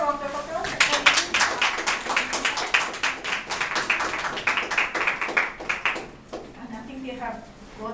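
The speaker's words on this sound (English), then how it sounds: "So we have a round of applause." An audience at a postgraduate seminar gives a round of applause, a mix of claps close and moderately loud, with a voice talking over it before the clapping fades out.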